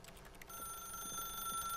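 A telephone rings inside the video game The Stanley Parable, a steady electronic trill with bright tonal overtones that starts abruptly and continues unbroken, clear and moderately quiet with no talk over it.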